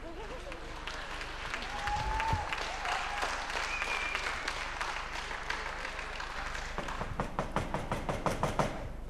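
Knocking on stage during a Ukrainian comedy stage play, a run of sharp, evenly spaced raps near the end, heard over a busy, noisy theatre background with scattered crowd sound.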